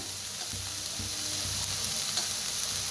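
Chicken masala fries hard in a pan as the oil separates, giving a loud, steady sizzle with stirring scrapes and a few soft knocks, close up and without speech.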